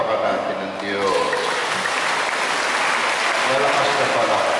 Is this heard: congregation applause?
yes